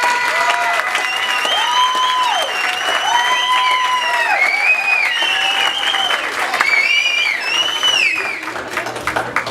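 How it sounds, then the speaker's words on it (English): Guests at a quinceañera party clap loudly and steadily, with high whoops and cheering voices rising over the applause from start to finish. "Could y'all give an applause?"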